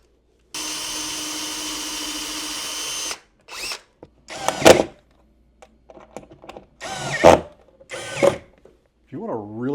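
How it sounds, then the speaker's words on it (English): An electric screwdriver driving screws while motorized blind brackets are installed: one long steady whir, then several short whirring bursts with quiet gaps, and a voice briefly at the end. "If you want a really awesome screwdriver, check this one out from Fantic."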